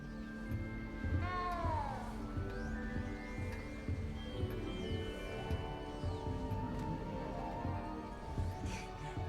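A cat in Hogwarts Legacy gives a drawn-out, wavering meow followed by further plaintive mews and caterwauls, close and clear over a faint game ambience.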